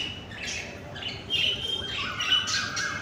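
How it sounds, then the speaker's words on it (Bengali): A pigeon calling near a pigeon coop, giving a few short squawking coos in quick succession over a quiet background, fairly close. "এদিকে এসছে একটা পায়রা"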